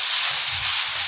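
Drywall joint compound being sanded over coated screws, a close, continuous abrasive rubbing in steady strokes with no talking.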